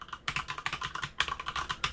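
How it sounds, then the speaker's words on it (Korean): Muted typing on a Leopold FC900R PD keyboard fitted with silent red switches, a steady run of soft, dampened keystrokes in two quick bursts, close and alone. "똑같은 힘으로 치고 있어도 확실히 이제 소리를 딱 먹어주는 느낌이 나죠"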